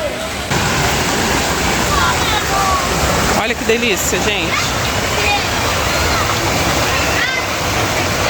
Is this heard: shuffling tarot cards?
no